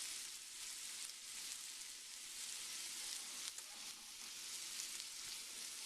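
Small burgers cooking in a pan, Little Tavern / White Castle style, give a steady, quiet sizzle with fine crackling throughout and no talking.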